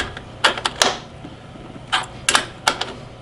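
A battery terminal on SLA batteries for a Newcastle mobile powered unit being tightened down, giving several close, sharp metallic clicks and ratchet-like taps in short irregular bursts.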